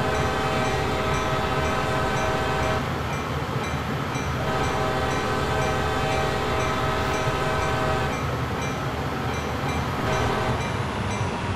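A CSX freight locomotive in the Train Sim World game sounds its horn at a whistle post: long sustained blasts broken by brief gaps, loud over a steady rail and engine rumble.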